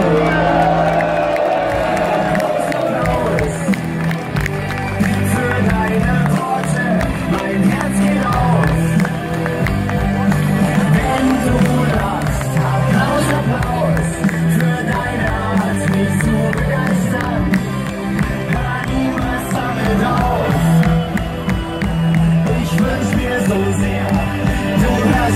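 A large crowd at Red Bull Salzburg's 2016 championship celebration cheers, whoops and claps continuously for a long stretch, loud and dense, with a voice calling out over the roar.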